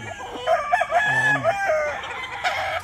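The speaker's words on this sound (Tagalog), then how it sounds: "Ito isa sa paborito ko, super na manok mga kakosa." A yellow-legged broodstock rooster crows once, loud and close, a drawn-out cock-a-doodle-doo with a few clucking notes around it, heard alone without talk.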